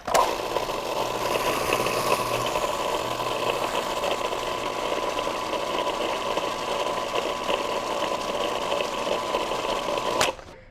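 A grinder whirs steadily while blending cookie ingredients with vanilla, a loud continuous motor drone held at one pitch for about ten seconds before stopping suddenly.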